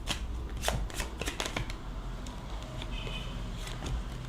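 A deck of fortune-telling cards is shuffled close up, with repeated riffling bursts and card flicks in quick rhythm, fairly loud with no talk over it.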